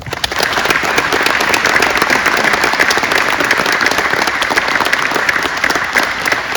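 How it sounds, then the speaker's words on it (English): Audience applause at a hall of fame induction ceremony, a dense, even wash of many hands clapping that holds steady and loud throughout, with no talk over it. "Let's give all the inductees one more round of applause"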